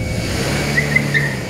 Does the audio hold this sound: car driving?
yes